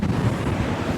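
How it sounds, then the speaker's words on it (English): Steady, rumbling wind buffeting a microphone on the beach at Myrtle Beach, South Carolina, low and continuous, with a faint wash of surf behind it and no voices. "it's very windy, so I hope everyone can hear us on the mics right now."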